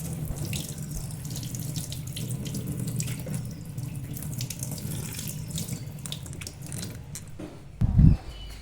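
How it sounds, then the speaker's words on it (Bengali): Jackfruit washed under a running kitchen tap to rinse off its sticky sap: steady splashing water flows throughout, ending with a brief louder knock or clatter near the end. "এইভাবে প্রথমেই কলের তলায় কাঁঠালটাকে দিয়ে দেবেন এবং এর আঠাটাকে জল দিয়ে ধুয়ে নেবেন।"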